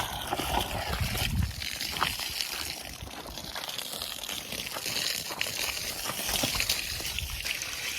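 Borewell water rushes and splashes steadily under high pressure from a pipe close by, a rough, continuous gushing with occasional sloshing bursts.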